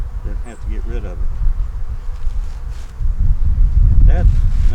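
Honey bees buzz densely around an opened hive after a storm, a close, steady drone with gusts of wind noise and occasional brief rustles.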